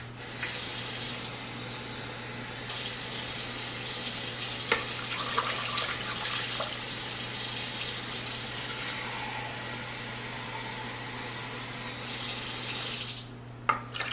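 Water and low-sodium chicken broth pour steadily into a rice cooker with quinoa, a continuous rushing stream running close and fairly loud, briefly pausing near the end.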